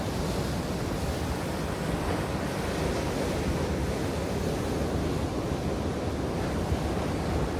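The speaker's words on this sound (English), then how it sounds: "So many waves have come in." Ocean surf breaks on a beach in a steady, dense roar, mixed with wind buffeting the microphone, continuous and fairly loud with no clear pauses.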